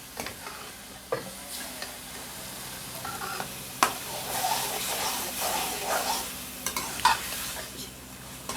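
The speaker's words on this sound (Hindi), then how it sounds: "अच्छी तरह इसको भून लेंगे ताकि आलू भी गल जाएं।" Potatoes frying in a pan with a little milk for aloo palak, stirred by spoon: intermittent scraping knocks over a soft, hissing sizzle that swells and fades, close by and with no speech.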